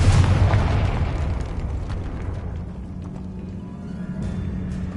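A Confringo fire spell explodes in Hogwarts Legacy, opening with a loud, close boom that decays into a long rumbling tail and settles into a steady low hum of game ambience.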